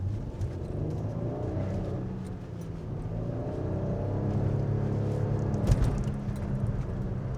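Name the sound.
Lexus RX400h accelerating at full throttle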